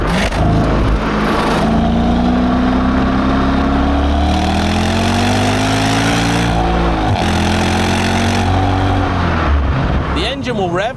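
A Mercedes SLK55 AMG (R172) V8 revs hard through its valved exhaust, a loud, close, sustained growl that rises and falls in pitch, with a brief dip midway and a final blip.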